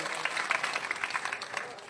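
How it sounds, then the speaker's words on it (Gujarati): Dense crowd applause and clapping fill the room steadily throughout, at a religious week-long katha gathering as donations are announced. "આ ભરતભાઈ બકાલા વાળાને પેલા તાળીથી વધાવો, એમનું બકાલું ફેરી જાય તાળી વધાવો."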